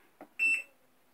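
A fire alarm panel's test signal: a short electronic tone with a sharp, steady pitch sounds once, preceded by a soft click, in a quiet indoor space.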